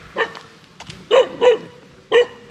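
A dog gives several short, sharp barks close by, with one quick yip first and then three louder barks in an uneven rhythm.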